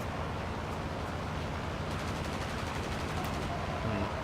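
Bombs released from a German AGO Ao 1 biplane in the World of Warplanes game detonate amid a steady roar of engine and gunfire, a dense continuous rumble of explosions with no clear gaps.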